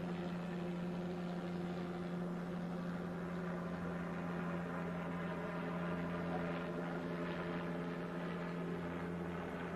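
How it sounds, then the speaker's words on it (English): A steady, droning helicopter rotor hum fills the air continuously, distant and fairly faint, with no other sounds standing out. "We can't hear what's being said because of the helicopter flying overhead"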